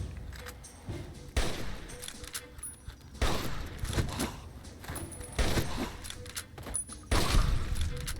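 Rifle gunfire rings out in Fallout 3 during a fight with feral ghouls, a series of sharp shots spaced irregularly over a rumbling game background.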